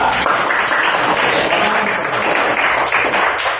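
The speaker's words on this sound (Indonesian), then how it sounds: "Tepuk tangan buat kelompok 3" Classroom applause for a student group during a teacher-training practice lesson, a steady dense wash of many hands clapping at moderate loudness throughout, with no talk over it.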